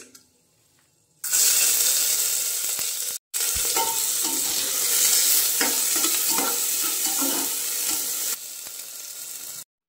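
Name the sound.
cardamom, cinnamon and peppercorns sizzling in hot oil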